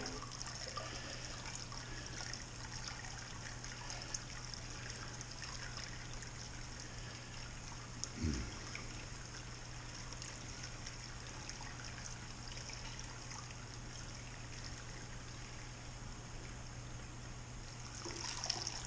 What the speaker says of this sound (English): we'll pour this pitcher back in slowly